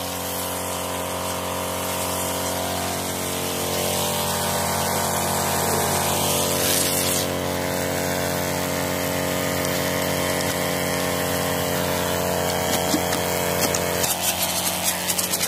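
Carwash foaming machine pumping and spraying soapy foam, a steady continuous hissing and pump drone held at close range with no pauses.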